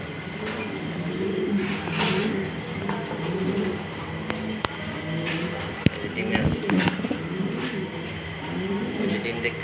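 Pigeons coo in low, rolling phrases that repeat over a busy background, with a few sharp clicks and knocks.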